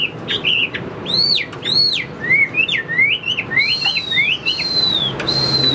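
A caged hwamei (Chinese melodious laughingthrush) sings loud, clear, close-up whistled phrases. The notes swoop up and down and repeat in quick varied bursts over a steady low background hum.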